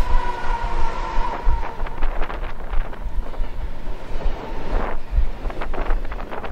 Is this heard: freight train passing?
yes